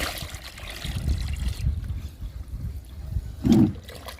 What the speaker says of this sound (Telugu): ఇందులో 2 పోస్తున్నాను.